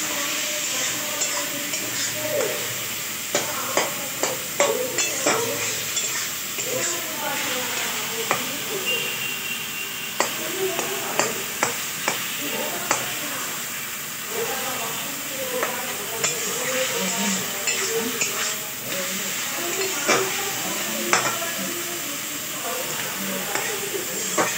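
Vegetarian Maggi noodles are stirred in a pan, a steady hissing sizzle with repeated scraping and clinking strokes of the spatula, close and fairly loud throughout.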